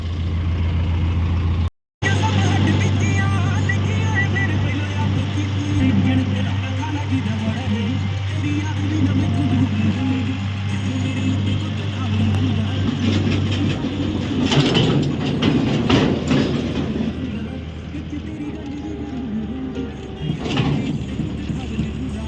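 A farm tractor towing an empty trolley along a village road in Punjab, its steady low engine drone and rattling trolley running continuously and loud, with a brief dropout early and the rumble easing slightly later.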